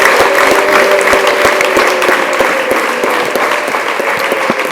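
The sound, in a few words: applause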